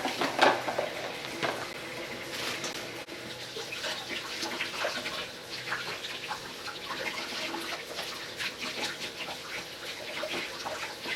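Running tap water pours steadily over crab being rinsed clean in a sink, a continuous close splashing wash with faint handling clatter and no talk.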